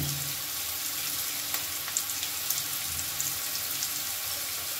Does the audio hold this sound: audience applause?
no